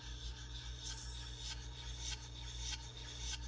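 LeverCraft Ultra coffee grinder running steadily with a low motor hum and repeated raspy grinding scrapes as its burrs are tightened down, close and continuous.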